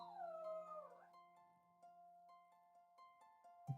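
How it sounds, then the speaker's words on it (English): A ghost dog in the video game Hero-U lets out a long, sad, wavering whine at the start, followed by a quiet sustained tonal game ambience with soft ticks and a brief louder thump at the end. "one sad and noisy dog whine"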